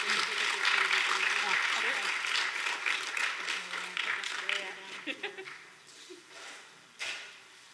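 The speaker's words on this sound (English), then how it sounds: "Let's give one more round of applause" Enthusiastic audience applause at an award ceremony honoring equity and social change, loud and dense at first, then thinning into scattered claps that fade to a few last isolated ones.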